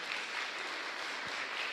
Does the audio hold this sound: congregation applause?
yes